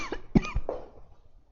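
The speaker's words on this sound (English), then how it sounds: "Just coughing." A person coughs a few times in quick succession, close and fairly loud, with short harsh bursts fading into quiet breathing afterward.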